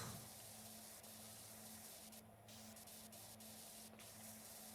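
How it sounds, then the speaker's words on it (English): A pressure washer sprays continuously in the Powerwash Simulator video game, a faint, even hiss of water spray with a low steady hum underneath and no talking. "Can't stop spraying."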